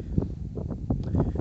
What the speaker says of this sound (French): désolé pour le vent, hein, le Mistral ici